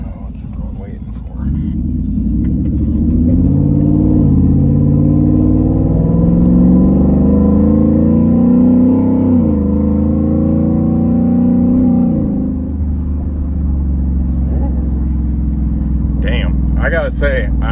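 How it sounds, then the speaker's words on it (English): A 2020 Ford F150 with a 5.0 Coyote V8, exhaust cutout open and resonator deleted, accelerates with a loud, throaty, rising engine roar held close and steady for most of the clip, ending with a few brief voices. "we're going to accelerate here again. This thing is throaty."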